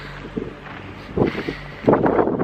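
Gusty wind buffets the microphone with low rumbling bursts that rise and fall under dark skies on the island of Öland, Sweden, and no one speaks.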